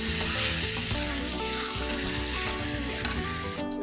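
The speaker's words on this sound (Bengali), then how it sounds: "ভালো করে কষে নেব।" Boiled chickpeas fry in oil in a pan for kabli chola, giving a steady close sizzle with scraping stirring noises, and no talk over it.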